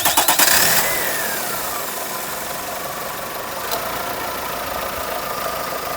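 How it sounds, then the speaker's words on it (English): A used car's engine cranks with a quick rattle of starter turns, catches, and settles into a steady, moderately loud idle with a faint whine, heard close and without voices. "Now I'm going to start the vehicle up"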